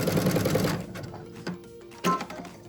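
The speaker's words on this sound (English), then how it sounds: "just go ahead and zigzag together" A sewing machine runs a zigzag stitch across a fabric tissue box cover, a steady close whirring hum that stops and gives way to a few short mechanical clicks and bursts of stitching.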